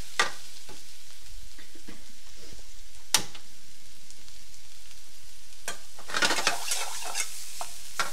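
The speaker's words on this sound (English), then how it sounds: "As you can see, I'm just mixing it, letting it marinate" Vegetables with chili powder, green chilies and coriander being mixed by hand for biryani, giving a few soft wet scrapes and clicks, then a louder cluster of sticky stirring noises near the end, otherwise quiet.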